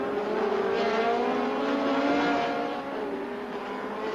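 Formula Atlantic open-wheel race cars from the 1975 CASC Players Challenge series, engines screaming at high revs as they race past, a loud sustained whine that shifts in pitch and eases slightly toward the end.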